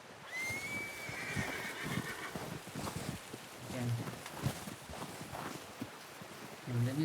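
A horse in the video game Red Dead Redemption 2 neighs with a rising, drawn-out whinny, followed by scattered thumps and rustling movement in the background.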